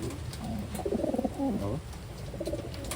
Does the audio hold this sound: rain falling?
no